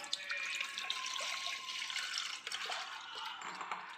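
Half a litre of milk is poured into a pot for a pudding, a steady close-up stream of liquid splashing and gurgling that lasts about four seconds.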